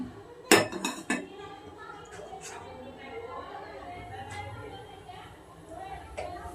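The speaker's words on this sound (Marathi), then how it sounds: "त्यानंतर त्याच्यावर कढई ठेवायची" A heavy metal wok clanks down onto a gas stovetop with a couple of sharp knocks, followed by softer clatter and faint background hiss.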